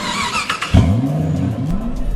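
An Infiniti I30 car engine cranks and catches with a sharp burst, then settles into a steady idle hum with a brief rising rev.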